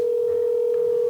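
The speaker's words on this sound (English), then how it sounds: "I'm just gonna pick up my phone just for a second." A steady, loud, unbroken telephone dial tone, heard alone after a phone is picked up.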